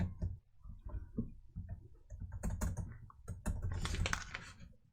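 Python code being typed on a computer keyboard, a close run of rapid, uneven key clicks and taps with short pauses between bursts, no speech.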